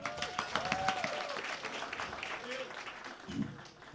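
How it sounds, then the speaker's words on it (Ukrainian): Applause from a cabaret comedy show audience in Lviv, a steady wash of clapping with crowd noise and a voice or two heard over it. "Ваші оплески, друзі!"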